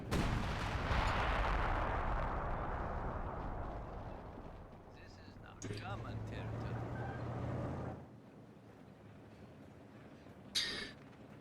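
Red flare artillery ability firing in a competitive video game match: heavy booming blasts with rumbling tails, one opening loudly and later ones around the middle and near the end, mixed with game noise while commentators talk over it.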